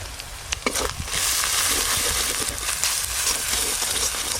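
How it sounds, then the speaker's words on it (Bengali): Chopped onion, ginger and garlic fry together in a pan, giving a steady close sizzle with scraping stirs and a few clinks, no talk over it. "আদা রসুন আর পেঁয়াজ কুচি একসঙ্গে খুব ভালো করে ভাজা ভাজা করবে"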